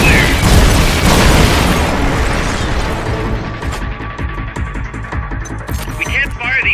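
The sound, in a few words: supporting fire explosions in Metal Gear video game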